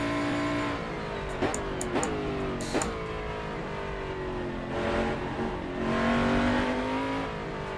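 A Mercedes-Benz CLR race car in the video game Assetto Corsa revs loudly and steadily, its engine pitch rising and falling through gear changes, with a few brief sharp blips.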